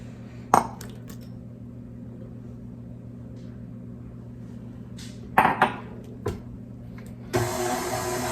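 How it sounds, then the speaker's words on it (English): Eggs cracked into cheesecake batter in a bowl, with a few sharp clinks and taps against the bowl over a low steady hum, ending in a louder noisy burst. "now we're going to add our last 2 eggs"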